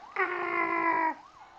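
A police car siren sounds briefly behind a moving car, one loud steady wail of about a second rising out of faint cabin noise and fading away.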